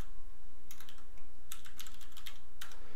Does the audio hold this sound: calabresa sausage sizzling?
no